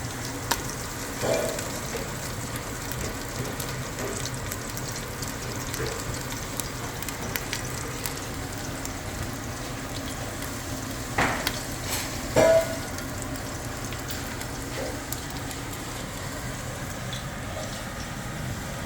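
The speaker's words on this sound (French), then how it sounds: "Huile bien bouillante." Very hot oil sizzles in a pan with a continuous steady hiss while a beef bourguignon daube base is prepared, with a few louder spits and crackles partway through.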